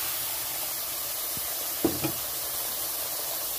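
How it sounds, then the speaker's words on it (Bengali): Mustard paste hits hot oil left over from frying fish, giving a steady hiss with a couple of short, sharp spits near the middle. "মাছ ভেজে নিয়ে যে তেলটা আছে, তেলের মধ্যে আমি সর্ষে বাটাটা দিয়ে দিচ্ছি।"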